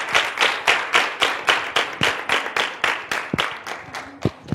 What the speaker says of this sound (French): Nous allons l'accueillir, s'il vous plaît, avec des applaudissements.